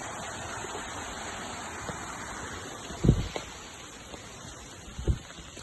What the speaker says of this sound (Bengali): পানি নামার একটা শব্দ শোনা যাচ্ছে।